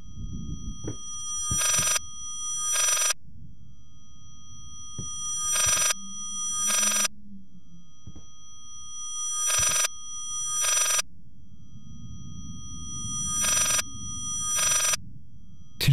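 A telephone rings in the horror video game Layers of Fear, sounding bright paired bursts at a steady rhythm, about five double rings in all, over a low droning background.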